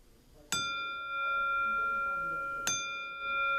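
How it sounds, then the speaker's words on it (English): A ten bell salute rings at a wrestling show: two clear metallic bell strikes spaced about two seconds apart, each leaving a long sustained ring. "Let's give him a little 10 bell. 10 bell salute."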